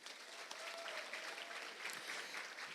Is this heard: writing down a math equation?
no